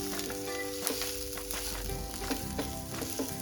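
Sesame seeds and half a spoon of cumin sizzle and crackle steadily in a hot pan with oil, with small pops and the scrape of stirring throughout, close and fairly even in level.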